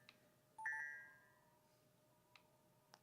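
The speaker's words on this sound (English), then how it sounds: "I'm very curious about a bonus bell has been added." A bonus bell in the video game Sonic Generations gives a bright, clear chime with a short ringing tail, quiet and alone, followed by a couple of faint clicks.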